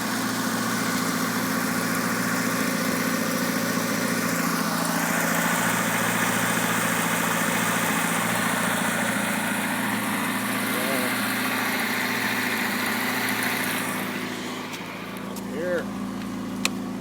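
A car engine idles steadily with a low, even hum and a constant vibration, close and continuous for the whole stretch, while a faint background sound shifts near the end.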